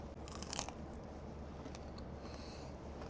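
Crunchy bite into sugar-coated candy coated with nuts, a short burst of crisp crackling near the start followed by quiet, faint crunching, close to the mic with no talking.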